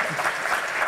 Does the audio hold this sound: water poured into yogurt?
no